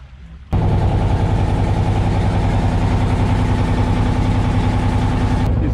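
A boat engine starts up and runs with a loud, steady, low rumbling drone, close by, holding for several seconds before cutting back.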